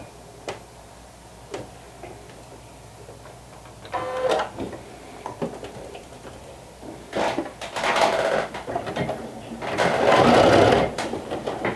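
Sewing machine stitching a vintage jumper, running in several separate bursts of rapid mechanical stitching, with the longest and loudest run near the end and quiet pauses between them.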